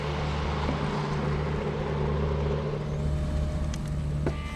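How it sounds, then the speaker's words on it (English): A Mercedes-Benz SLR Roadster sports car drives past with a steady, loud engine drone and low hum that stays constant from start to finish. "Now, he takes the new SLR Roadster for a test drive."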